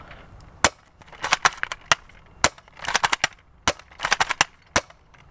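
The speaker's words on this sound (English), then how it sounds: "We're going to do 4 rounds as quick as I can" Several guns that look alike fire a string of sharp, dry cracks close by, some alone and some in tight clusters, over about five seconds.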